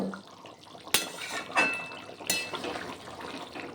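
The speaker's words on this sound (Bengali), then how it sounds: "নাড়াচাড়া করে নিচ্ছি একটু আলুর ফুলকপি সবই সেদ্ধ হয়ে গেছে" A pot of potato and cauliflower curry is stirred, giving a few faint metallic scrapes and clinks of a spoon against the pot over a quiet kitchen background.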